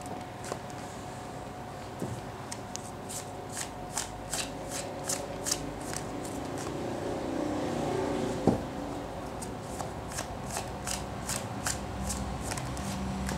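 Tarot cards shuffled by hand in a quiet room: a steady run of crisp riffling flicks and soft slaps repeating throughout, close and moderately loud, with a low steady hum beneath.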